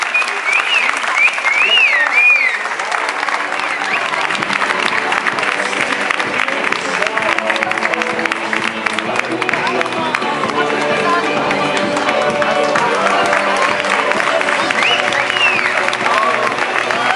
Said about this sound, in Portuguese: Uma salva de palmas para a Daniela, para a Gabriela e para o João Serafim.